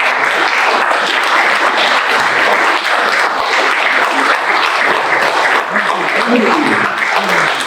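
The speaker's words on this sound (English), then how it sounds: "join me in a round of applause" Sustained round of applause from an audience at a department meeting, dense and steady for about eight seconds with no break, loud and close.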